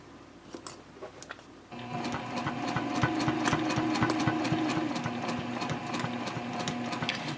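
A sewing machine stitching tote handbag panels around a curve, starting after a few light clicks and then running steadily and loudly at a moderate pace with a rhythmic needle chatter, close by with no talk.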